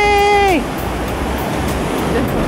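Roaring water of Iguazu Falls at the Devil's Throat on the Argentine side, a loud, steady broadband rush, with a brief voice at the start.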